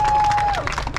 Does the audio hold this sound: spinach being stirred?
no